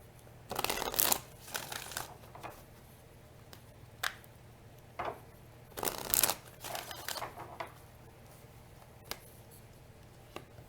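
Oracle cards being shuffled by hand, a series of close, crisp riffling and flicking bursts in uneven clusters, with brief pauses between handfuls and no talking.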